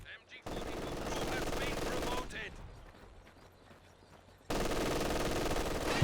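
Machine gun fire in Company of Heroes 2, two long sustained bursts of rapid automatic fire separated by a quieter stretch of lighter battle noise, loud and close.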